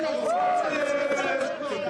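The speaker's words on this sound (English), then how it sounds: "The crowd have marched back and they are right behind me chanting songs of solidarity" A protest crowd at an #EndBadGovernance march in Nigeria chants songs of solidarity, a dense wash of many voices in rhythmic unison, loud and close around the listener.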